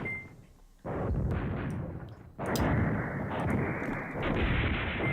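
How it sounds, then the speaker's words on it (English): Heavy artillery fire in the WWII strategy game Command Ops 2, with loud booming blasts that roll into a continuous rumble and swell again partway through, with no talking. "Just drop more artillery on them."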